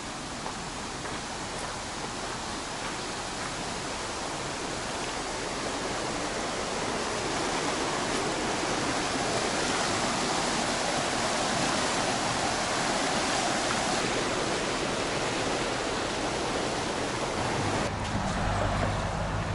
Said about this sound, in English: Here you can see where the water exits the lake.